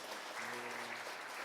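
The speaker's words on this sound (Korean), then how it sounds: "우리 축복하며 박수하겠습니다." Congregation applause in a Korean church after a prayer and blessing, a quiet, dense, even wash of clapping from a crowd heard at a distance, with a faint voice briefly underneath.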